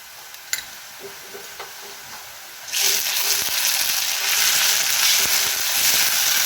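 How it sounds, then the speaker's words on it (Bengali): Ginger, garlic and cumin paste frying in hot oil for a spicy pabda fish curry, starting with a few soft clicks before a loud, dense sizzle bursts in partway through and holds steady to the end. "দিয়ে দিচ্ছি এক চামচ আদা রসুন এবং ওর সঙ্গে কিছুটা জিরে একসাথে বেটে নিয়েছি"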